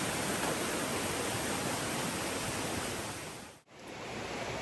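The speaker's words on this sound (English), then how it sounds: "I'm walking over a footbridge on a river that's far less intimidating than yesterday's" A river rushes beneath a footbridge on the muddy Appalachian Trail in Vermont, a dense, steady roar of flowing water close by that briefly cuts out before resuming.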